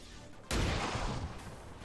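A sudden heavy burst of weapon fire aimed at a gunner in XCOM 2 erupts and rumbles on with dense, booming noise, with a faint voice underneath.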